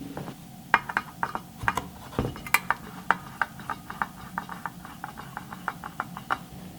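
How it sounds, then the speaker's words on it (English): Small screws are worked loose with a small screwdriver while installing custom gauges, giving a string of faint, close, crisp ticking clicks in an irregular rhythm, with light scraping between them. "I'm going to take these little screws out and we'll see if we can slip that over"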